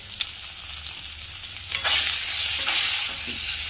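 Mango pieces frying in a pan with salt and turmeric sizzle steadily while a utensil stirs and scrapes through them, the frying growing louder and crisper partway through.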